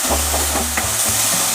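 Carrots, peas and green onions being stirred with broken wheat in a hot pan, giving a steady sizzle with a few scraping strokes of the spoon over about a second and a half, close and moderately loud, with no talking.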